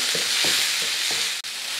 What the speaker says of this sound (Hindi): प्याजों को हमने हल्का सा फ्राई करना है